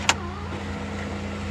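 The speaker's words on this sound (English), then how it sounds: "Open up the sunroof." An electric sunroof on a high-mileage Honda Prelude opens with a sharp click and then a steady motor whir, heard over the car's low idle hum at about 1,000 RPM.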